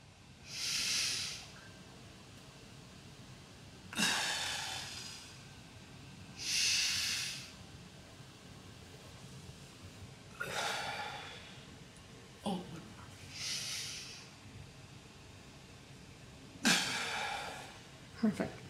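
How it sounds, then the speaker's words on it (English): A patient in a hospital setting does deep breathing exercises, with about six long, hissing breaths spaced a few seconds apart, some ending in a brief snort, close and fairly quiet. "The patient performs her deep breathing and coughing exercises"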